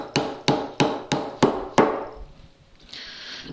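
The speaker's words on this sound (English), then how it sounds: "Just using the hard face of the mallet" A wooden mallet's hard face strikes a chisel six times in steady rhythm while chopping a mortise in a workbench build, each blow a sharp, close knock, followed by a brief quiet and a soft hiss.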